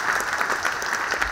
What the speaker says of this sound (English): Round of applause to Greg.